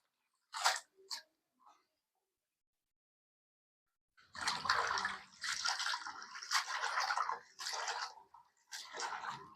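Vegetables for a village-style kanjara dish being washed a second time in water: a couple of brief splashes, a pause, then continuous sloshing and rubbing of wet produce close by.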